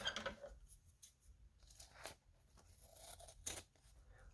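Scissors cut along the cover edges of a handmade junk journal in a few soft, close snips and crunches, quiet and mostly alone.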